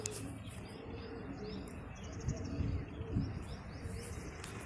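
Domestic pigeons coo softly and low, with scattered higher chirps over a faint, steady background.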